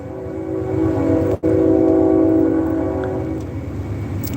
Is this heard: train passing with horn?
yes